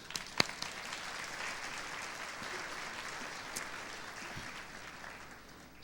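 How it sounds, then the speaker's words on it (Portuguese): A church audience applauds with a soft, continuous wash of many hands clapping at a distance, holding an even level for several seconds, with a sharper clap or knock near the start. "dê palmas para o senhor Caneco e a senhora Caneca, por favor"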